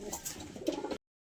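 Pigeons cooing softly at close range, a short low throaty coo heard faintly for about a second before cutting to silence.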